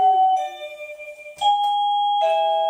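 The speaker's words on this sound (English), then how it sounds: "it'll go back to the traditional ding-dong sound." A wireless doorbell chime, an Avantek DT52 unit, sounds its traditional ding-dong: two clear electronic tones ring out, followed by another pair of bright ringing notes that sustain and decay, loud and close with no talking.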